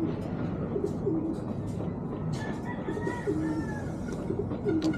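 Pigeons being conditioned for breeding coo softly and repeatedly over a steady, broadband background hum, with low, rounded calls recurring every second or so.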